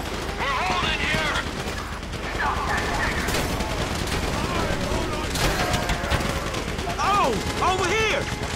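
Heavy gunfire in a shootout in the video game GTA 5, with continuous overlapping shots and rattling bursts, mixed with shouting voices throughout.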